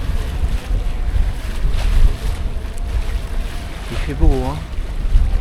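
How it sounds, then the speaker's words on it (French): Steady wind rushing across a sailboat beating upwind in a zigzag course off northern Euboea, Greece, with low water and hull rumble; a voice speaks briefly near the end. "Il fait pas chaud parce qu'il y a un petit vent quand même."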